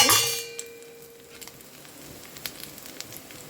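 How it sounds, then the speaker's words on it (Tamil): Chicken coated with salt, pepper, red chilli powder and egg fries in a pan. A loud metallic clang opens, then a steady low sizzle with scattered faint crackles and ticks continues alone. "சிக்கனை வந்து கொஞ்சம் பொரிச்சிக்கலாம்"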